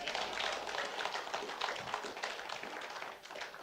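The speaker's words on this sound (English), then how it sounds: "give a big hand clap to the Lord" A church congregation claps together during a Mother's Day praise service, a dense steady wash of many hands filling the room throughout, with a slight dip near the end.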